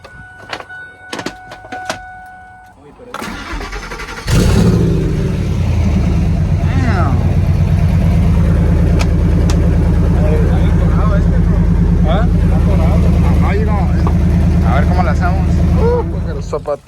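A Ford Lightning pickup truck cold-starts: after some handling noises, the engine catches at once and settles into a loud, steady idle that runs on for many seconds, with faint voices in the background.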